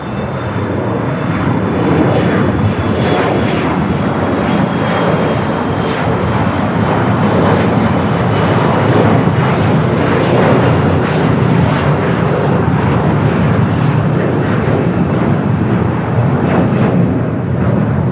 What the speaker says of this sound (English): That is the Japan Dreamliner heading to Tokyo Narita.